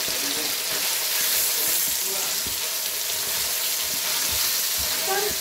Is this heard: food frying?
yes